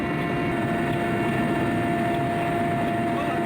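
Helicopter engine and rotor drone, close and steady, filming over the Amur River region, with a continuous broadband rumble and a constant tonal whine throughout, no voices.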